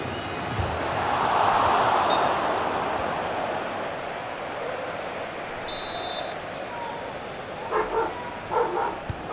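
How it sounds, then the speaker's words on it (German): A dog barks and yips in short bursts near the end, heard faintly over a steady wash of background noise while someone plays FIFA 16. "Ja, siehst du, da rastet sogar der Hund aus."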